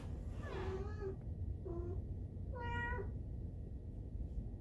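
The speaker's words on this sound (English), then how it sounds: "Oh, kitty cat." Cat meowing up close, three distinct meows in quick succession, the last longest and highest, over a constant low background rumble with no speech.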